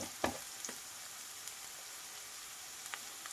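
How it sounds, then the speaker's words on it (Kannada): Garlic and green chillies frying in a pan, a faint, even sizzle with a couple of light stirring clicks near the start and a few soft ticks later, close but quiet. "ಬೆಳ್ಳುಳ್ಳಿ ಮತ್ತು ಹಸಿಮೆಣ್ಸಿಕಾಯ್ದು ಎಲ್ಲ ಹಸಿ ವಾಸನೆ ಹೋಗಿ ಸ್ವಲ್ಪ ಫ್ರೈ ಆದಮೇಲೆ"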